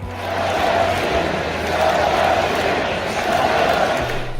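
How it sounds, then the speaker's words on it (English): Loud stadium crowd at a baseball game in the Oakland Coliseum, a dense continuous roar of cheering and voices that swells and holds steady throughout, with no clear speech above it. "The crowd goes silent and now getting very loud at the Coliseum."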